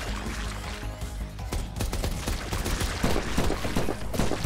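Full-auto gunfire from a gun in From Space rattles in a rapid, dense burst of close shots lasting several seconds.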